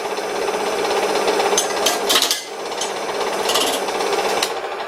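Worn gouge digging into wood on an old wooden lathe, a loud continuous rattling chatter with sharp bursts of cutting as chunks come off, close by with no talk.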